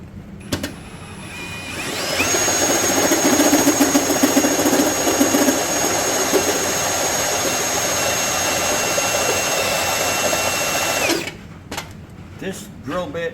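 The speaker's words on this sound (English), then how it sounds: "This drill bit is about had it." A power drill with a badly worn bit whines steadily at high speed for about nine seconds while boring, then stops, followed by a few clicks and handling sounds.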